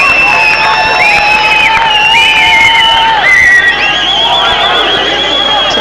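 Large stadium crowd at the 1994 Hockey World Cup semi-final between Pakistan and Germany, a loud sustained roar of cheering and shrill whistles and cries that rises briefly and holds throughout, with a commentator's voice under it.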